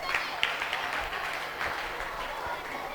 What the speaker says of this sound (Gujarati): ઓડિયન્સ તાળીઓ સાથે વધાવી લઈશું આપણે.